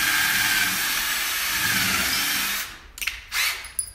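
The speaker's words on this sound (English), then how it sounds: "He's gonna pre-drill a hole." A power drill pre-drills a hole in bookcase wood, whining loudly and steadily for over two seconds, then cutting off, followed by a few short bursts and clicks.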